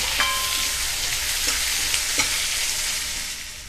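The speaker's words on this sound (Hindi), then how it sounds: "अब इसमें हम मीडियम आकार का 2 चॉप किया हुआ प्याज डाल देंगे और अच्छे से प्याज को भी भूनेंगे" Chopped onion, medium-sized, frying in a pan for paneer bhurji after cumin, with a steady loud sizzle and a few distinct scraping stirs of the spoon; no voices.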